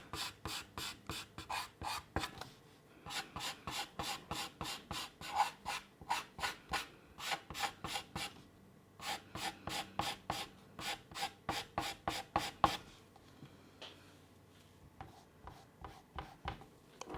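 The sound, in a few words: erasing graphite pencil lines on paper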